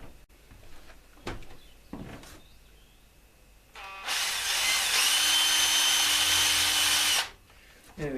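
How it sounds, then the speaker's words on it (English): A power drill bores a pilot hole into wood in a home workshop during tool-handle joinery, a loud steady whine lasting about three seconds after a few faint knocks and handling sounds. "We just need to drill a pilot hole."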